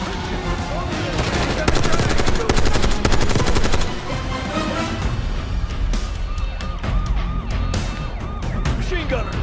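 Machine gun fire in the Call of Duty Black Ops 6 campaign, loud rapid bursts of automatic shots, densest early on, then sparser gunfire mixed with explosions and battle noise.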